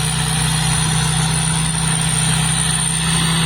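A Thai combine harvester engine runs at a steady, loud, droning idle with a constant low rumble and a faint high whine, unbroken throughout.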